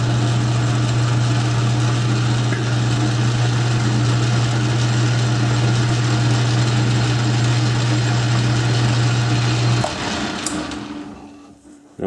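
A small drill bit bores a hole for a 10/32 screw while building an oil can, giving a steady, close motor whine with a constant hum that stops near the end and then fades out.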